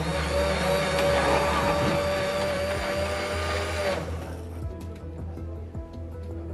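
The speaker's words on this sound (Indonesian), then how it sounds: "Pemusnahan barang bukti seberat 194 gram sabu dengan cara di blender" Blender grinding seized methamphetamine mixed with water, a loud high-pitched whirring motor that runs steadily, then cuts off partway through, leaving quieter background noise and faint clatter.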